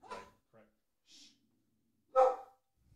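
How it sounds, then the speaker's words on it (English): Dogs barking in brief bursts, a loud bark near the end and softer ones earlier, with faint breathing between, heard around a talk about the spring car market. "Dogs are barking."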